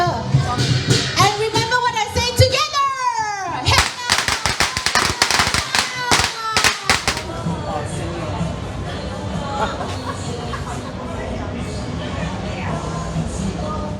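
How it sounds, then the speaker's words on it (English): Chinese New Year firecrackers in Kuala Lumpur's Chinatown, Malaysia, crackling in a rapid, loud burst of sharp pops after a stretch of crowd chatter and whistles, then fading into street hubbub and voices. "We're going to do a firecracker."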